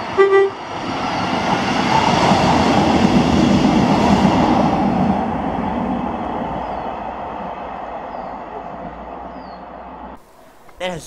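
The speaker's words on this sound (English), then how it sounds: "this is 1Z17, the 1940 ScotRail service to Inverness" ScotRail service 1Z17 from Perth to Inverness passing through Blair Atholl, opening with a short horn toot, then a loud rumbling pass that swells and slowly fades before cutting off near the end, with a voice briefly present.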